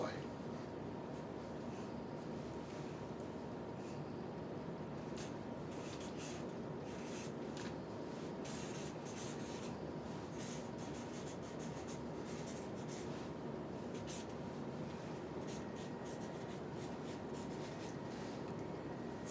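A hand writing on paper, pen strokes scratching and rubbing in short bursts throughout, soft and close, under a steady room hiss with people talking nearby.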